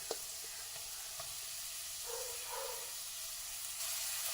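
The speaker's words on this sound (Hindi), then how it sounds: "ऑयल गर्म हो चुका है तो पहले हम इसमें ये मैंने मीडियम साइज की प्याज ली थी, उसको मैंने चॉप करके अब इसमें हम डाल रहे हैं।" Chopped medium onion hits hot oil in a pan, giving a soft, steady sizzle with a faint hiss that holds evenly for a few seconds, no voices.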